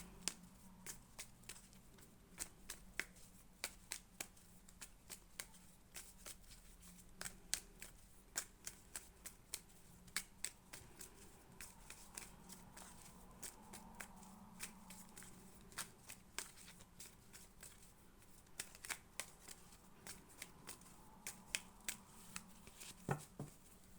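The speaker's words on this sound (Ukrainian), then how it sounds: "Дивіться, от я ще раз перекладаю карти." Cards are shuffled and handled quietly and close up, with crisp irregular snaps and riffles scattered over a long, otherwise quiet stretch.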